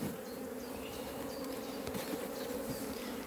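Honey bees buzzing steadily while a colony is split using queen cells, a dense continuous hum close by with no voices.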